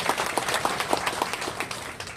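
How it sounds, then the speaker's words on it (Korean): An audience at the opening thanksgiving service of a church memorial hall applauds, with dense, close clapping from many hands that continues at an even level and tapers slightly near the end. "박수"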